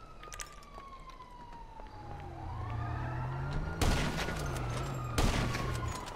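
Police sirens wail in GTA 5, a falling tone then rising and falling wails, with sharp gunshots cracking over them near the end.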